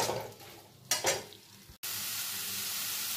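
Kakrol (spiny gourd) and potato curry being sautéed in a pan with sugar and coconut, a few spoon scrapes and stirring clatters, then a loud steady sizzle rising abruptly and continuing close by.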